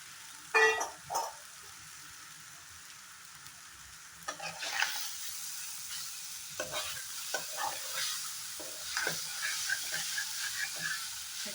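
Maggi noodles stirred in a pan over a gas flame, with a soft steady sizzle and a few sharper scraping stirs, close and quiet, no talking.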